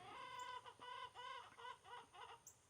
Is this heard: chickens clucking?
yes